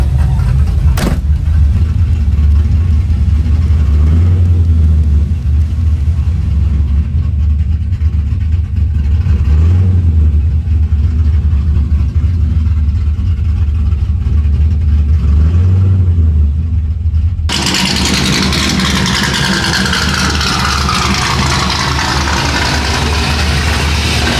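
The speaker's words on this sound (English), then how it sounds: "Waiting for the car to warm up." A 1980 Corvette engine idles steadily while warming up, a close, loud, continuous rumble with a few slight swells in revs, until it is abruptly cut off and only quieter ambient noise remains.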